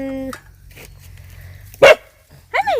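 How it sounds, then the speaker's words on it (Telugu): A dog barks twice in short, sharp bursts near the end, close by, after a stretch of quiet background noise. "కుక్క చూడు"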